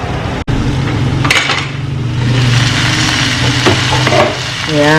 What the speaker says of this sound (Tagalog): Tapos lagay ko na rin itong labong. Para pag tinakpan ko, minsanan na. Yan, gisa ko muna yan guys.